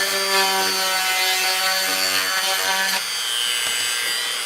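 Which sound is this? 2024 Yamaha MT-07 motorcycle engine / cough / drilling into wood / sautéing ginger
drilling into wood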